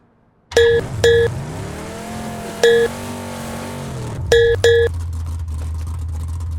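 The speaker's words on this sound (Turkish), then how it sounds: "Araba." A car driving on the Miramar map in PUBG: a low, steady engine drone starts suddenly and runs throughout, broken by several short, sharp electronic beeps in quick pairs and singles.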